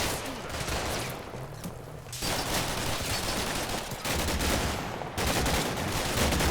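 Machine gun fire from the Combat Mission: Black Sea game rattles into a building in several sustained bursts separated by short pauses, dense and crackling at moderate loudness.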